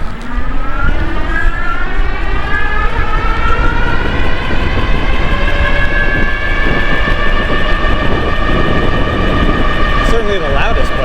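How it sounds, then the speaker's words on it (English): A dual-motor electric bike climbs a hill at speed with a loud, rising whine, several steady tonal layers gliding upward in pitch over continuous rumble and wind for the whole stretch. "Certainly the loudest bike."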